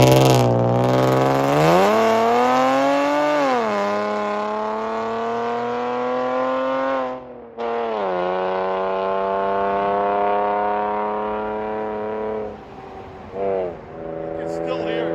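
A Chevy Camaro V6 with true dual straight-pipe exhaust revs up loud and close, its harmonic drone climbing, settling, dropping out briefly, then rising again through several revs into a steady idle.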